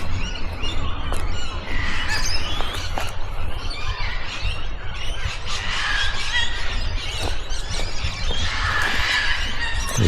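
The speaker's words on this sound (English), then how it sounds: "There's some birds up there." Birds squawk and screech from the trees of a small Australian park on a warm winter day, a busy, loud chorus of harsh calls with no talking.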